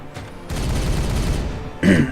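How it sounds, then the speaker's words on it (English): Gunfire in the turn-based Regicide video game: a sustained burst of shots fills the middle of the clip, followed by a sharper, louder report near the end. "Okay, I'll shoot at that one instead."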